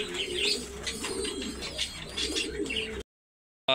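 Pigeons in a loft coo continuously, low throaty calls overlapping with scattered chirps from nearby birds, close and steady with no voices.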